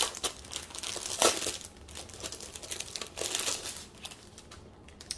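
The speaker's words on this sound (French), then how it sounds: "je vais ouvrir le paquet" A plastic packet of diamond painting supplies being opened: close crinkling and crackling of wrapping, with a sharper tearing rip near the middle and steady rustling handling around it.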